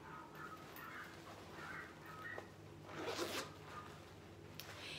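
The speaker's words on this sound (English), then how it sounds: "And it's got zippers on each side." A zipper is pulled open on a wig travel bag, several short scratchy zipping runs in a quiet room, the longest near the end.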